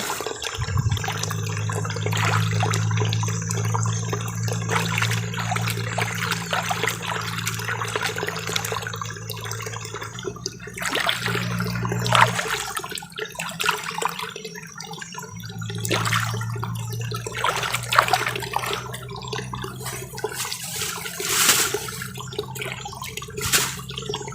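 Wild local vegetables gathered from rice paddies are washed in water: steady running and splashing water with a low hum underneath, fairly loud and continuous throughout, with no talking.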